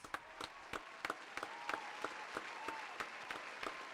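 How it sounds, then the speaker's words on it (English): An audience at a senior show gives a round of applause, with scattered, uneven claps that are moderately loud and continue steadily throughout. "Caleb Stein, Evan Harkin, big round of applause."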